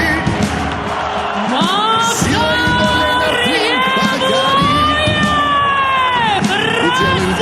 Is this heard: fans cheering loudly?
yes